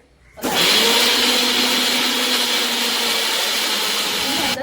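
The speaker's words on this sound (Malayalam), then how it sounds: "ഇത് നമുക്ക് മിക്സിയിലിട്ട് നന്നായിട്ട്" A mixer grinder blending a homemade dandruff-treatment paste starts abruptly after a brief pause and runs at a constant, loud whirring roar for several seconds without changing pitch.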